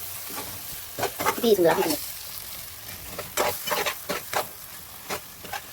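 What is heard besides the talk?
stirring a frying fish dish in a pan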